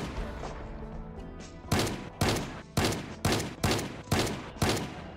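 Shotgun firing in the video game Project Zomboid: seven loud, sharp blasts at roughly half-second to second intervals, each with a brief decaying tail, following quieter in-game ambience.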